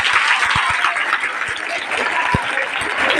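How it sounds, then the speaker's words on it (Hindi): Schoolchildren in a classroom clapping together in steady, dense applause that lasts throughout, fairly close and loud. "ताली बजाओ इसके लिए।"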